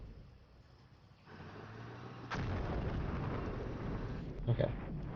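Artillery fire in the tactical war game Full Spectrum Command, Big Red 1 campaign: a heavy boom kicks in, then sustained rumbling barrages and a sharper blast near the end.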